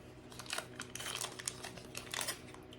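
A knife slicing through a paper-wrapped stick of butter in a home kitchen gives close, quiet crinkling and rustling of the wrapper in a steady run of short bursts, with a faint constant hum underneath and no talking.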